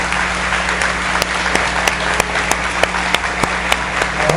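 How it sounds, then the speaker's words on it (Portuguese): A standing audience at a family symposium applauds, with loud, rhythmic claps falling in unison at a regular pulse over continuous clapping and a low room hum. "bater uma salva de palmas para eles."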